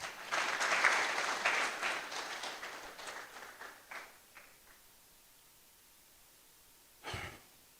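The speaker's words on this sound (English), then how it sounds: "Clap for them for me, please." An audience at an inaugural lecture breaks into applause, dense clapping that peaks early then thins and fades over several seconds, followed by a brief isolated sound near the end.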